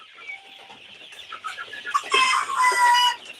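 Egyptian Fayoumi chickens cluck and chatter nearby on a farm, softly at first, then a louder burst of overlapping clucking and squawks from several birds.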